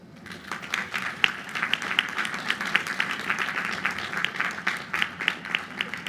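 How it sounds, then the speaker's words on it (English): Audience applause at a college commencement ceremony, many people clapping in a continuous, moderately loud patter with a few sharper nearby claps standing out. "Please, if we could have applause"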